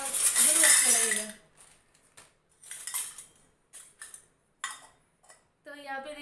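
Small toy cooking pots and utensils clinking and clattering as they are picked up and handled, a loud rattle at first, then scattered short clinks with gaps, close by.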